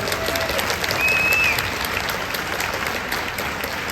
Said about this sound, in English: So can we give them a round of applause, please?